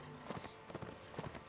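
Horse hooves galloping in the video game Mount and Blade Warband, quick rhythmic clip-clop beats in short bursts, fairly faint and close.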